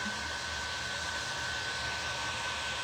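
A hair dryer blows steadily on a freshly cleaned piece of thrifted home decor, a continuous broadband whoosh with no pauses or talking.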